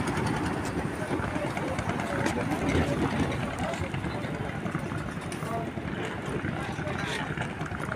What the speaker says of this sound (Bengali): নৌকায় স্টার্ট, ফাট ফাট ফাট ফাট ফাট ফাট।